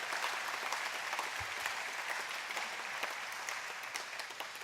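An audience at a campus ribbon cutting ceremony applauds, a dense, steady wash of many hands clapping at moderate distance, sustained for several seconds without speech.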